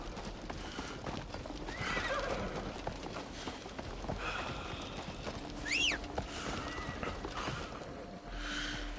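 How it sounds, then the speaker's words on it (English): A horse in a video game neighs loudly with a rising whinny, alongside steady clip-clopping hooves and a few snorts, set against a busy in-game ambient backdrop without speech. "There's the horse."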